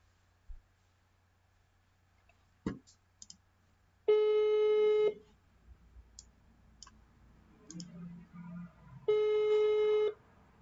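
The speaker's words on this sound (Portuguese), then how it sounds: "Vamos tentar ligar de novo aqui, ó. Vamos ver se alguém me atende agora." Telephone call placed to a number: scattered clicks and a tap, then two long, loud electronic tones several seconds apart, each about a second long, a ringback or busy signal heard alone.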